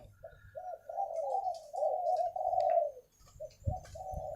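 A spotted dove coos in a soft, rhythmic series of hollow notes, fairly close, with faint chirps and a few low thumps in the background.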